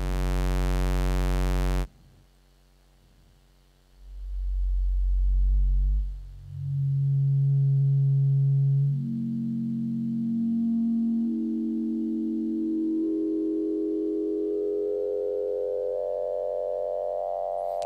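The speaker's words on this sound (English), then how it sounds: "And if I replace my sawtooth with a square wave," A synthesizer square-wave tone steps upward in pitch through a sequence of rising notes, buzzy and steady, following a brief loud tone and a pause, with no voices.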